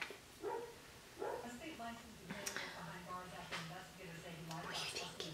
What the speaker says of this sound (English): And Bailey is barking at someone.